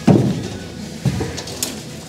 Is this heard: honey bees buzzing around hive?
no